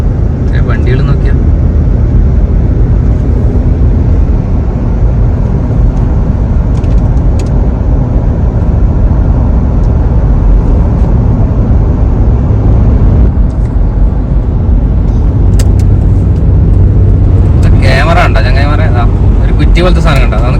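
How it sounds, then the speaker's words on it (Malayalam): Steady road traffic roars along Sheikh Mohammed bin Zayed Road, a five-lane road in Dubai, heard as a loud continuous rush of cars with people talking over it throughout. "വണ്ടികൾ നോക്കിയാ"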